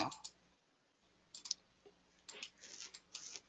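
A computer mouse clicked while highlighting text box content, a few faint, sparse clicks and ticks in a quiet room.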